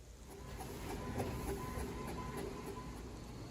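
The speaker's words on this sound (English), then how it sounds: "it prints out a color document like that pretty darn fast, a full page within seconds" An HP Tango portable wifi printer runs a full colour page, giving a steady mechanical whir with faint rhythmic clicking and clacking from the paper feed, moderately close and continuous throughout, with no talking.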